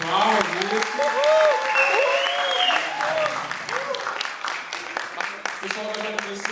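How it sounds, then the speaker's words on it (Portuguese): An audience claps and applauds at a manga publishers' round-table panel at the Ressaca Friends 2016 event, a sustained burst of clapping with voices talking over it. "Esse aqui, ó, palmas, isso."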